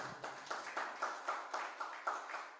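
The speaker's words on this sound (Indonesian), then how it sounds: "Tepuk tangan buat kalian semua." A church congregation claps together during a Sunday service, a soft, fairly distant patter of many hands with a steady rhythm of rising and falling bursts.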